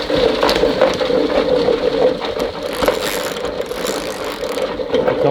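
A honey extractor bolted to the ground spins frames of honeycomb with a steady, loud mechanical whir and rattle, a continuous hum with faint clanks and a slight wobble throughout.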